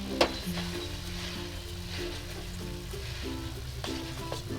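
Chowmein noodles for chicken chowmein, with fried vegetables and a splash of vinegar, sizzle steadily in a hot pan, a continuous close frying hiss with occasional stirring clinks and no talking.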